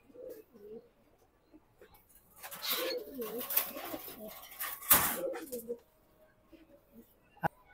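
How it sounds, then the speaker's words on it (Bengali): Racing pigeons coo in soft, throaty bursts close by, with a louder flutter or clatter in the middle. Quieter calls follow and a sharp tap comes near the end. "এই যে আমার মিলি কবুতরটা"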